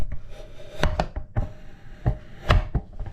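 A hand-operated pull chopper dices onion inside its lidded bowl: a series of sharp, close clacking chops with uneven spacing and rattling blades, about eight quick impacts and no talking.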